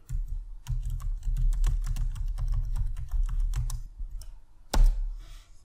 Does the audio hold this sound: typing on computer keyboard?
yes